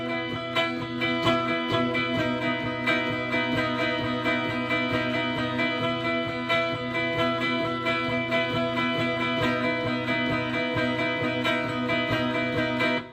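Electric or acoustic guitar strums a constant, even stream of fast unaccented sixteenth notes in a strumming pattern, steady and loud throughout, without any talking.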